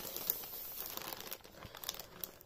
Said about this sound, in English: let's unbox this. Well, unpackage this thing.